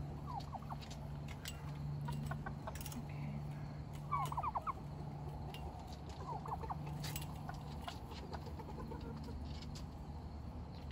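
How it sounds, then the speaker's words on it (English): Turkeys kept near a chicken coop gobble in several quick warbling bursts at moderate distance over a steady low hum, with scattered softer fowl calls. "Turkeys are going nuts because they can see the buffs behind the coop."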